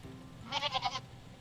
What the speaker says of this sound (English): That is a goat.